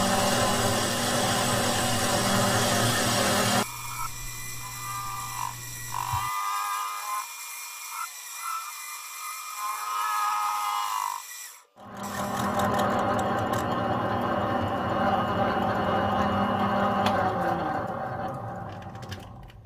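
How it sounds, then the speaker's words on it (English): A lathe or milling machine cutting an OEM Smart car differential side plate to fit bearings, a steady whirring machine drone that drops out midway and then resumes with a harsh grinding cut, loud and close. "Now to machine the OEM diff side plate to fit the bearings"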